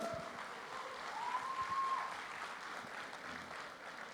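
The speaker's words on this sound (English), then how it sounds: "this team requires a huge round of applause from all of you" Applause from an audience at a first-look launch event for the film Robot 2.0, a steady, fairly quiet wash of many hands clapping together that continues without a break.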